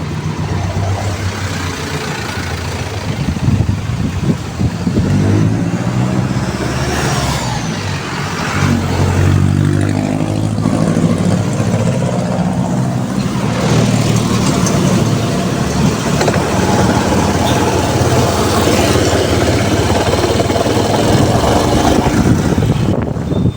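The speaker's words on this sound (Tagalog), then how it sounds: "Kung naririnig nyo o nakikita nyo yung vibration, ang lakas ng vibration niya." A Honda Click 125 scooter engine runs with strong vibration, a loud continuous rumbling drone that swells in revs partway through, close and alone without talk.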